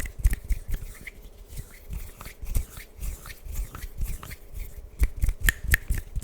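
Close-miked ASMR finger snapping, a soft irregular series of dry clicks, some clustered and some spaced apart, quiet and without any voice.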